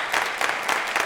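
A chamber at the opening of a state legislative session fills with applause, a dense, steady wash of clapping heard at a moderate distance, briefly and without voices on top.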